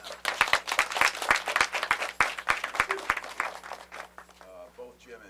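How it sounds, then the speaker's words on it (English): A small group claps for a few seconds at a graduation ceremony, sharp uneven claps close by, tapering off as a voice begins speaking. "Let's have a round of applause for both of them."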